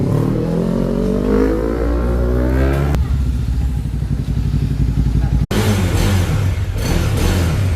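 Motorcycle engine revving inside a big bike repair shop: loud, close throttle blips rising and falling, with a brief cut in the middle before the engine picks up again.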